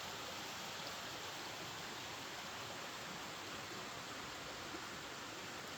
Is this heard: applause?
no